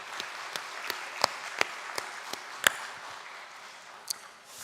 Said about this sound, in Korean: 서로에게 고마운 마음으로 한번 따뜻한 박수를 보내면